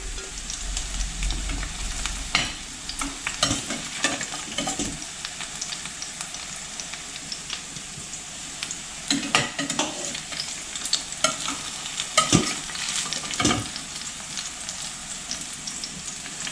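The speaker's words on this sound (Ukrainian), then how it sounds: "Додаю трішки олії і продовжую далі обсмажувати." Vegetables, including eggplant, frying in freshly added oil in a pan give a steady moderate sizzle, with scattered stirring scrapes and knocks throughout.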